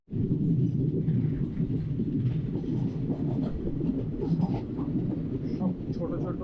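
A train on the Kolkata to Amravati route runs along its rails in a continuous low rumble with a busy rattling texture, heard from on board, steady and fairly loud from start to finish.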